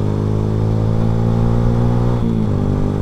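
A Honda Revo FI fitted with a cheap racing exhaust revs steadily and loud and close, its engine tone holding firm before stepping down near the end.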